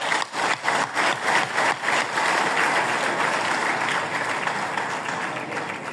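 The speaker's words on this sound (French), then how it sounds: "Applaudissez pour elle" A large conference audience in Conakry breaks into steady, loud clapping for a minister, the applause rhythmic and full at first, then settling into a sustained wash of hands.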